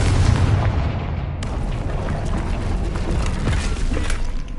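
A Confringo spell explosion in the video game Hogwarts Legacy: a loud, deep booming blast with crackling debris that rumbles on steadily throughout.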